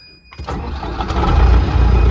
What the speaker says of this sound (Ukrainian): Так, заводимо трактора.